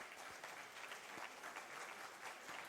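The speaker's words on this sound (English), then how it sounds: "The in-stadium announcer highlighting her to the crowd, getting the rhythmic clapping going" A distant stadium crowd at the Troyes Aube athletics meeting claps in unison in a steady, regular rhythm, faint and far off with a wash of crowd noise underneath.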